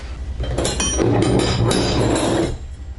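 Metal wrenches, including a Craftsman combination wrench, clinking and clanking together as they are handled, a run of sharp close metallic knocks and rattles lasting a couple of seconds.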